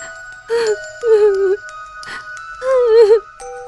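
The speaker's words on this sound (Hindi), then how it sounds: "कमरे में किसी और के रोने की आवाज आने लगी।" Wailing, sobbing cries rise and fall in several drawn-out bursts over a steady tonal drone, as a horror story sound effect of someone crying in a haunted hostel room. The cries are close and loud and alternate with short gaps.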